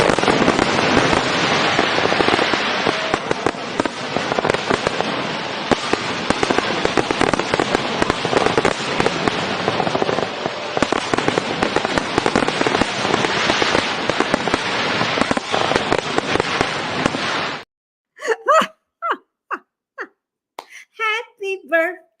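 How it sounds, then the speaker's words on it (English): Fireworks crackle in a dense, continuous barrage of rapid pops and sizzles for about seventeen seconds, then stop abruptly, leaving a few scattered crackles and short sounds at the end. "I done forgot about my fireworks"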